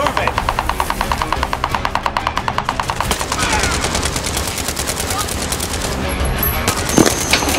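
Automatic gunfire in the video game Call of Duty Modern Warfare, a loud, fast, rhythmic machine-gun stream of evenly spaced shots, with voices talking over the battle.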